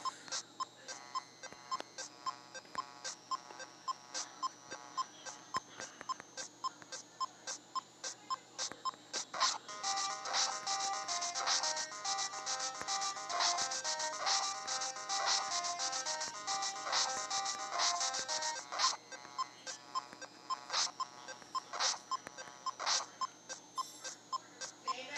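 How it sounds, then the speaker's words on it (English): A mobile phone sounds off near a game in progress, with repeated short electronic beeps and tones that thicken into a dense ringing melody mid-way before falling back to sparse beeps. No one speaks over it. "Sorry, that's my wife's phone."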